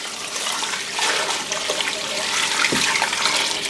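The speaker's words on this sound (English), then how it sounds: "now I'm going to add, there's 8 cups of broth in here. This is chicken broth." Chicken broth, eight cups of it, pours steadily into a soup pot for a ham bone bean soup, a continuous splashing, gushing liquid stream heard up close with no talk.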